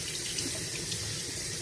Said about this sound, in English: Just keep rinsing it off until it gets nice and clean, and it's nice and wet too.